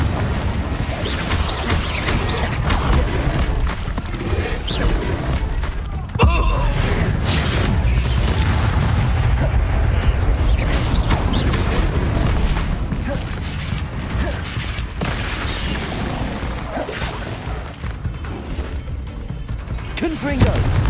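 Confringo blasting curses explode again and again in a Harry Potter video game, a loud, dense barrage of booms and crashing impacts that runs continuously without a break.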